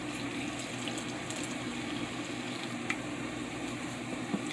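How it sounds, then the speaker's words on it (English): Water is poured into a well in flour while making roti dough for a Guyanese-style meal, a soft steady trickle over a faint background hum with a couple of small clicks. "and we add the water."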